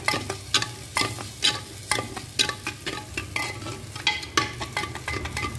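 A spoon stirs a tomato and green chili masala with mashed ingredients in a handi over heat, scraping in a steady repeated rhythm of sharp strokes over a soft, continuous sizzle.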